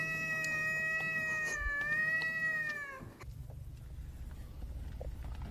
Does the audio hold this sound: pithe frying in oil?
no